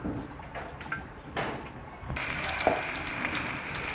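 Pad krapao with holy basil stir-frying in hot oil, a steady sizzle with scraping stir strokes and clinks at intervals, rain-dampened room ambience around it and no talking.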